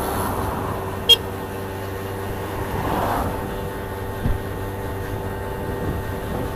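A car overtakes a rider on a 50cc scooter on a country road near a corner, its engine and road noise rising and passing under steady wind rush, with a brief knock or two.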